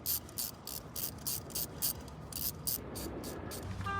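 A ratchet wrench clicks in quick repeated bursts while tightening a new spark plug on a 2012 Chevrolet Traverse, near and crisp with short pauses between strokes.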